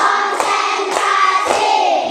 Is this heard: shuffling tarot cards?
no